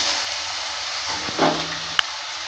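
Potato pieces dropped into hot oil and frying, a steady hiss with a brief sizzling burst and a sharp clink of a utensil near the end, close and moderately loud.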